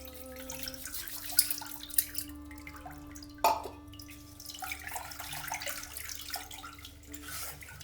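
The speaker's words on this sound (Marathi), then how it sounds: "आता हे पाणी गाळून घ्यायचं आहे" Water from cooked crabs strained through a fine semolina sieve for a Konkani-style crab curry, a soft trickling and dripping with faint clinks, fairly quiet and without talk.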